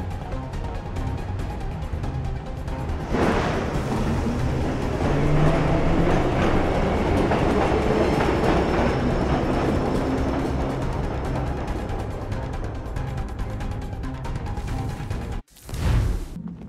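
Metro train in the Assassin's Creed III game, a loud steady rumble with rattling wheels running continuously for most of the stretch, then cutting off abruptly near the end before resuming briefly.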